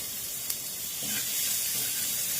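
Mustard seeds tempered in hot oil give a soft, close sizzling hiss after a small tap, crackling quietly and steadily with no voices.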